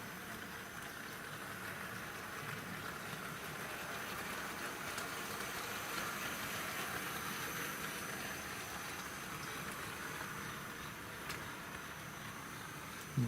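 A Tri-ang Hornby model locomotive fitted with a high-torque five-pole motor pulls wagons and a rail cleaning wagon along the track, a faint continuous whirring rumble with light rail clicks, steady throughout and without speech.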